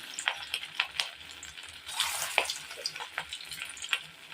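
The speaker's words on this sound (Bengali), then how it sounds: "তেলটা একদম গরম হয়ে গেছে আমি একে একে দিয়ে দেবো পাকোড়াগুলো" Fish pakoras hiss and crackle as they drop one by one into hot oil, a busy close sizzle with repeated sharp bursts as each piece goes in.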